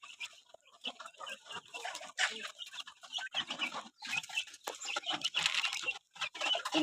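Chickens on a farm being fed cluck in busy, overlapping bursts close by, with quick scratching and pecking noises between the calls.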